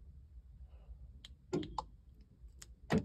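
Door lock clicks on a Volkswagen pickup with electric parking brake, a few short sharp mechanical clicks heard alone against low background hum, with a louder pair of clicks near the end.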